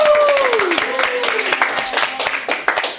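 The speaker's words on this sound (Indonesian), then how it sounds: "Tepuk tangan dulu guys." Scattered clapping from a small audience at an interview session, close and fairly loud, with a voice gliding over the start before the claps thin out.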